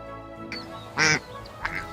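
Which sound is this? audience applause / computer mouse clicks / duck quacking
duck quacking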